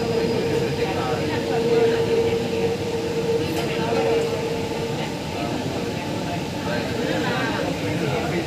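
A Kerala metro train rumbles along with a dense, steady roar and a faint whine heard from inside the car, while people talk over the running noise.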